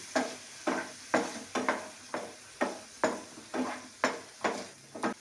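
Green chutney mixed into farali Manchurian in a pan, about a dozen regular scraping stir strokes at a steady rhythm over a soft sizzle, close and moderately loud with no talking.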